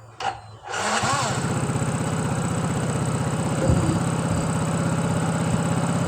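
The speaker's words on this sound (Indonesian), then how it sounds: "Ini kita coba starter dan bunyi dengan normal." A Yamaha Mio scooter engine with a new block, piston and piston rings cranks and catches after a brief click, then settles into a steady, close, rhythmic idle.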